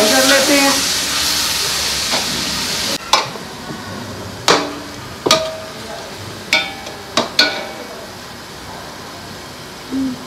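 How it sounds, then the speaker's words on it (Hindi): Masala spices frying in a pan for chana pulao, with a steady sizzle and hiss for the first few seconds, then quieter as a spoon stirs and scrapes in several sharp knocks against the pan. "अब इस मसाले को हम अच्छी तरह फ्राई कर लेते हैं।"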